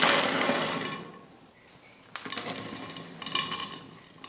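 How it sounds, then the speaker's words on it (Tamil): A mixer grinder whirs as it grinds cashew nuts, a loud burst that fades, then starts again in short rough pulses. "இது மிக்சியில் சேர்த்து நைஸாக அரைச்சி எடுத்துக்கலாம்"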